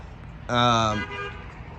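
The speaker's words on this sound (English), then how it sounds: "Either honking at me or honking at the smoker." A single car horn honks near a parked 500-gallon barbecue smoker, one steady blast of a little over half a second, then a softer trailing tail against quiet outdoor background.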